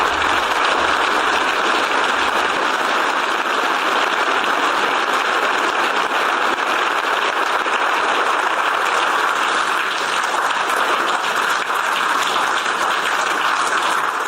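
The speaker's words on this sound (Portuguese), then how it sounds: "O presidente ucraniano foi aplaudido de pé." A large assembly gives the Ukrainian president a standing ovation: dense, sustained applause from many hands, steady and loud throughout with no break.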